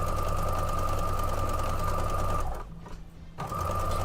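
A sewing machine stitches quilt pieces cut from a jelly roll, joining them in random order. It runs with a close, steady, rapid hum, stops for a moment, then starts again.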